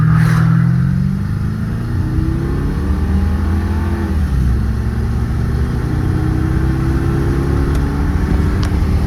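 A 1997 Mercury Cougar XR-7 V8 with 153k miles, heard from inside the car, accelerates hard with a loud, steady engine roar whose pitch climbs and then shifts, continuous for about nine seconds.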